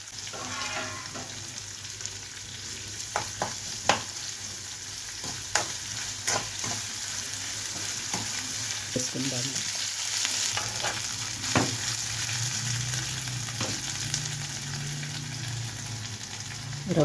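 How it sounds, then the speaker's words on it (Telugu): Onions fry in oil with ginger garlic paste, giving a steady close sizzle with scattered scraping taps from a stirring spoon and a faint low hum underneath, no voices. "ఇందులో అల్లం వెల్లుల్లి పేస్ట్ వేసుకుందాం"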